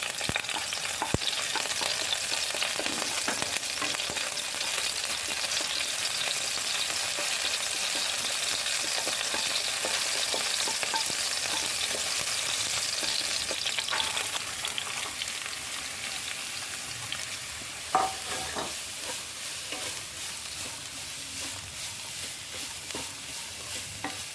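Green chillies hit hot oil for a chicken samosa filling and fry in a loud, continuous close sizzle that eases slightly midway, with an occasional stir and no talk.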